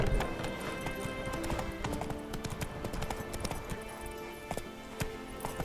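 Roach, the horse in The Witcher 3, gallops with a fast, continuous clatter of hoofbeats in a steady rhythm, close and prominent over faint background ambience.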